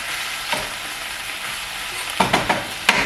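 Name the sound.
onions being sauteed in a pan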